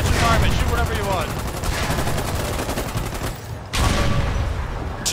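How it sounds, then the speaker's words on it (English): Rapid bursts of gunfire aimed at a tank in the war game Foxhole, dense and continuous for several seconds, with a short gap before firing resumes loudly. "Now shoot the tank in front of us."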